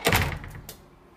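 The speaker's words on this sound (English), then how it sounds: "So shut the door." A door fitted with an electronic keypad and mobile-reader lock is pushed shut, giving a single close thunk that fades quickly into quiet.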